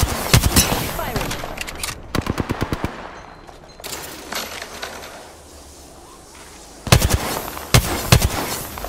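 Rapid automatic gunfire from the Apex Legends video game crackles in several loud bursts separated by quieter gaps, with faint in-game voice lines in between.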